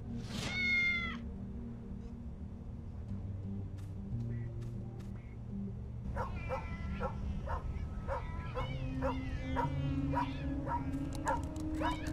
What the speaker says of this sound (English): Cats and a cranky dog, apparently.